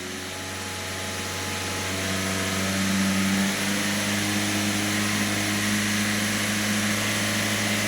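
A vehicle engine is held at raised revs of around 3000 rpm during a load test while its ECM data is checked, giving a steady, continuous mechanical drone with a slight rise in level partway through and no talk.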